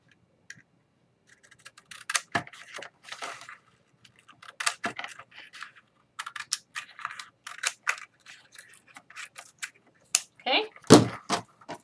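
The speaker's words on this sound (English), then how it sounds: "So I'm just going to cut this last one here off." Paper being cut to trim the last page off a 6.5 x 6.5 inch mini album, a series of close, crisp cutting snips and rustles in bursts, with a voice heard at moments.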